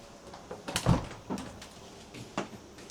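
A fridge door in a Japanese countryside rental home opens with a soft thud and rattle, followed by a few lighter clicks and knocks, close by and fairly quiet, no talking.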